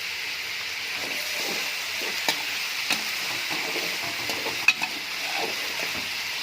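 Chicken cooks in a pan for tadka rice, a soft steady sizzle and hiss with a few faint clinks and taps, close but quiet.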